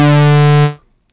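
A Bazille synthesizer playing a phase distortion patch, an envelope multiplying the waveform phase, gives one sustained, bright, buzzy tone rich in harmonics that holds steady, then fades out quickly, alone with no talk.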